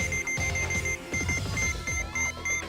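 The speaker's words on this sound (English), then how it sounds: "There's lots of beeping." Repeated electronic alarm beeps pulse in a steady rhythm over busy game sound effects and music in the video game Trauma Center: New Blood, with no talking.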